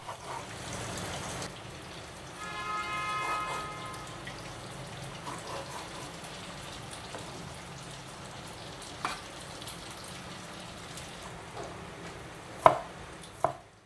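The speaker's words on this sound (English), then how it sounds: "I'll slice the pork" A knife slicing pork in a home kitchen while tofu pan-fries nearby: faint, sparse cuts and board taps over a low, steady sizzle, with a couple of sharper knocks near the end.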